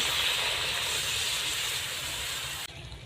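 Water poured into a pan of cooking jackfruit seeds sets off a loud, steady hiss of steam that runs on evenly before cutting off abruptly near the end.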